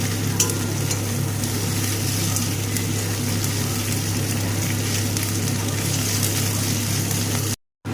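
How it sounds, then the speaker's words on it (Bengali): Ginger and spices sauté in a pan for Bengali-style Bihari chicken curry, giving a steady, close, loud sizzle with the faint scrape of stirring throughout, cut off by a brief silence near the end. "আদাটাকে দিয়ে একসাথে ভালো করে কষিয়ে নেব মশলার সাথে"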